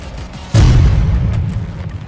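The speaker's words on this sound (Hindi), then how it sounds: "अवेंजर जैसी तोपों से दुश्मन की चौकियों को टारगेट किया जा रहा है।" An artillery cannon fires in the Thailand–Cambodia border conflict, one sudden loud boom followed by a rumbling decay over about a second and a half, with no voice over it.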